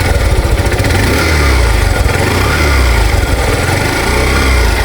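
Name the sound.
used motorcycle exhaust silencer sound while revving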